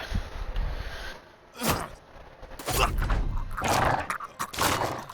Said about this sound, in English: Let's get a dog in there